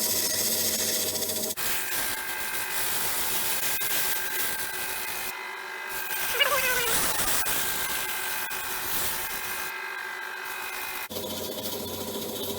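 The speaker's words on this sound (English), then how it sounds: "adjustment with sandpaper." Sandpaper works against a wood and resin reel seat spinning on a lathe, giving a steady whirring hiss with brief pauses and a soft scrape partway through.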